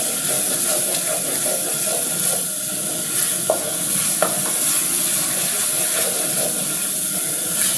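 Food frying in a pan for chicken cutlets, with a steady loud sizzle and occasional scrapes of stirring throughout, no talking.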